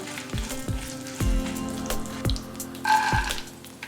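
Urad dal, mustard seeds, cumin and dry red chillies fry in hot oil as tempering for mango pulihora. The steady, close sizzle is broken by sharp, sporadic pops and crackles.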